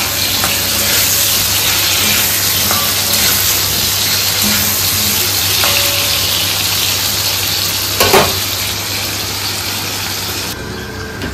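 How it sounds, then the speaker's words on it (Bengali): Potatoes and tomatoes frying in a pan, a loud steady sizzle running throughout with a few faint clinks and one brief knock near the end. "আলুগুলো ভাজা হয়ে এসছে, এখন মা টমেটো দিয়ে দিল।"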